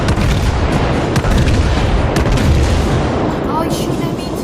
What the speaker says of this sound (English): Oh, he's shooting at me too.